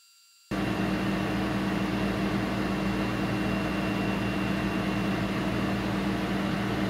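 Over-the-range microwave's extractor fan running above a gas stove burner, a steady loud broadband whoosh with a low hum that switches on abruptly and continues evenly throughout.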